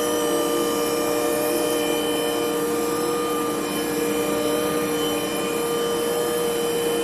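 A shop machine running a facing toolpath, a loud steady whine with a constant drone and tonal hum that holds unchanged throughout, with no voices.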